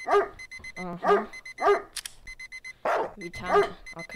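A dog barks repeatedly in sharp bursts with a synthetic, game-like quality in Streamer Life Simulator, accompanied by high beeping tones, close and loud.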